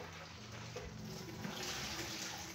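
Noodles for pancit loglog are rinsed under a running tap, a steady close splash of water pouring continuously without a break and with no talking.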